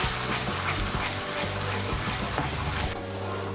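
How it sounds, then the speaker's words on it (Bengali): Yogurt being stirred into cauliflower korma in a pan, with a steady close sizzle and soft wet scraping that runs continuously for a few seconds, with no voices. "টক দইটাকে ভালো করে মিশিয়ে নেব।"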